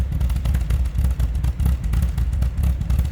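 A 1976 MG MGB convertible's 1.8-liter inline four-cylinder engine idling close by, a low rumbling throb with a steady pulsing rhythm and no voices.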